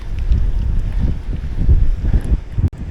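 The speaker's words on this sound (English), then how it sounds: "And yes, that is a headwind." Strong headwind roaring across the microphone while riding an Orbea Gain gravel bike up a very steep climb, loud buffeting gusts throughout with no talk.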